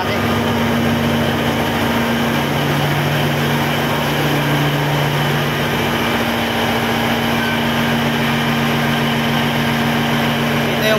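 Crane engine driving the winches of a clamshell bucket crane unloading a hopper barge, a loud steady rumbling idle with a constant hum running throughout.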